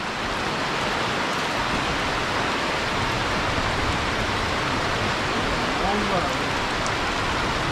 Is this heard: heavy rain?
yes